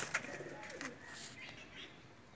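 Neel Dumma home-bred Pakistani pigeons at a loft give a few soft coos and rustles, close and fairly faint, with no talking.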